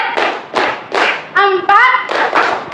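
A class of children claps in a rhythmic pattern, with groups of sharp, close hand claps separated by brief pauses and a short stretch of children chanting between the clapping bursts.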